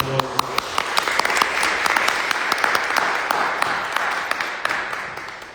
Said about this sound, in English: let's go and give these people a round of applause